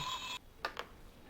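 A telephone rings in The X-Files video game: a short electronic ring cuts off, followed by a couple of faint clicks in quiet surroundings.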